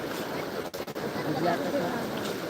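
Floodwater pours from the opened gates of a dam during heavy monsoon rain in Nanded, Maharashtra, a steady broad rush of water mixed with wind buffeting, heard from nearby.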